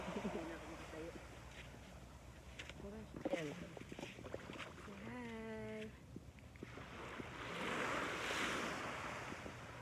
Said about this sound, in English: we're here at Lingsat Beach